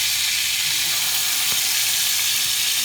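Olive oil and soy sauce sizzle loudly in a hot pan as a steady, hissing crackle with one brief sharper pop partway through.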